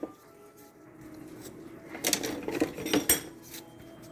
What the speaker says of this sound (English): you're going to have to keep stirring that a little bit